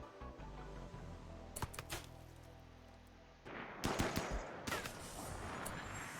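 Turret bursts in RimWorld firing on raiding pirates: a few sharp isolated shots early, then a louder cluster of rapid firing over a steady low game backdrop.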